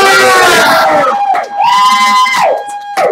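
Loud game show audience cheering and shouting, with children's high-pitched yells and whoops rising and falling in bursts, close and energetic throughout.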